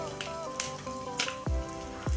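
Onions dropped into a pan of frying chana dal and dried red chillies set off a steady close sizzle, with a few sharp spatters and utensil knocks over the hiss.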